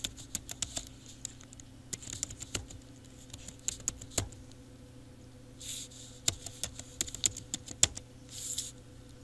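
Rapid typing on a computer keyboard while entering an Excel macro, with irregular bursts of sharp key clicks and occasional louder keystrokes, close and clear over a low steady background hum.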